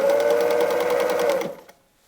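A sewing machine runs steadily at close range while stitching a straight seam during free motion quilting of a small pot holder, a fast even whirr that stops abruptly near the end.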